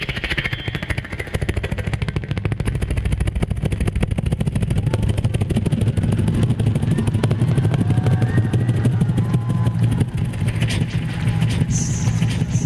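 A voice imitates a passing helicopter with a continuous rapid chopping, whirring drone that holds steady for several seconds, loud and close.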